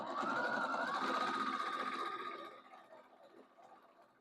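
A sewing machine stitches a blanket stitch along the edge of an orange peel table runner, a steady, close whir for about two seconds before slowing and fading away.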